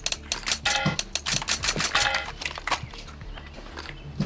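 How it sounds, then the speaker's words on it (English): A gun's suppressor being unscrewed and removed in the CS:GO video game, a quick run of close metallic clicks, ticks and clanks over a low game hum, no talking. "Taking off the suppressor and tuck away."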